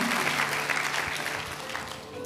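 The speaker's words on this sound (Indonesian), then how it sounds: "Tepuk tangan buat Tuhan kita" A church congregation claps together in steady, dense applause that fills the room for a couple of seconds, with a faint voice murmuring underneath.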